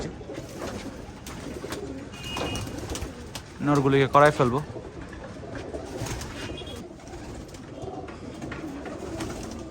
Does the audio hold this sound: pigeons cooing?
yes